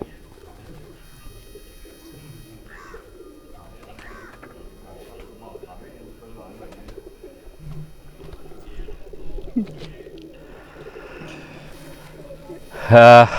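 Pigeons cooing in a loft, faint low coos scattered throughout beneath someone talking, with a louder burst of noise at the end.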